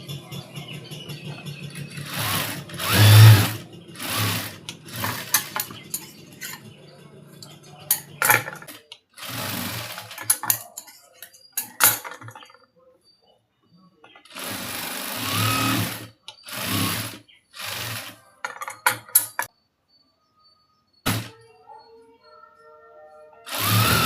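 Bursts of a domestic sewing machine stitching a blouse sleeve joint, short whirring runs of varying length separated by pauses and quiet handling of the fabric.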